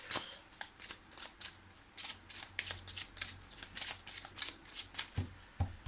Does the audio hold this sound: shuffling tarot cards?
yes